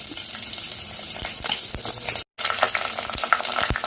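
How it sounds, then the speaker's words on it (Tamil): Small shallots frying in ghee sizzle steadily in a pan, with clinks and scrapes of stirring and a brief cut in the middle; no one talks. "வெங்காயம் சேர்த்துக்கலாம்."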